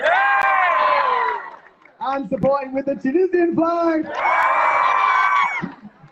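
Crowd at a Palestine protest cheering and whooping in two loud swells, with an amplified voice speaking between them.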